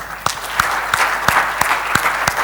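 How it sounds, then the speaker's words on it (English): Applause for a panel at the close of a conference session on financing green growth in emerging markets: a hissing wash of clapping with a few louder, evenly spaced claps standing out, steady and fairly close. "let's applaud them all"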